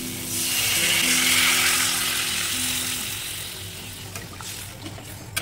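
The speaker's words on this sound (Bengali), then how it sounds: "এখন দিয়ে দেব জল।" Water pours into a hot pan of spiced potatoes fried with Kashmiri chili powder, bursting into a loud hiss that swells quickly and then slowly fades into a gentle sizzle.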